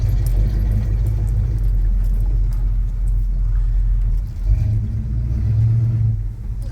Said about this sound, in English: This is a good running old truck.